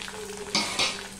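Two dried red chillies drop into hot oil already frying curry leaves and peanuts, giving two quick, close sizzling bursts over a steady low bubbling hiss.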